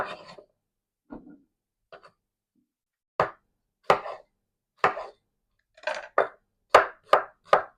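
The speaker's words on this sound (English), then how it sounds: "I'm going to cut it into more or less similar cubes like we did with the" A knife chopping a vacuum-packed vegetable into cubes on a board, sparse soft cuts at first, then sharper, regular chops that quicken toward the end, close and clear with no talk.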